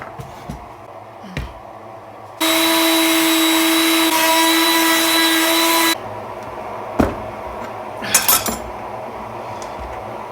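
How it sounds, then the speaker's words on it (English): A router cuts a hole in wood for a bartop arcade monitor. It whines loudly and steadily for about three and a half seconds between quieter handling knocks and clatter from the workbench. "I'm going to drill with the router because it's there."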